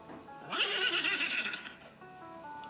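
A single drawn-out horse whinny, wavering and high, rising then trailing off, heard fairly clearly over a faint background.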